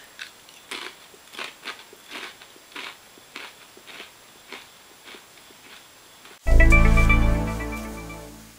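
Close crunchy bites and chewing of Cheez-It Grooves Loaded Cheesy Taco crackers, about a dozen rhythmic crunches, ending in a sudden loud burst of music.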